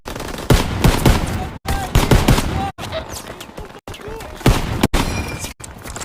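Rapid bursts of gunfire from Call of Duty WW2, with many sharp shots in quick clusters separated by brief gaps, loud and close, alongside game speech.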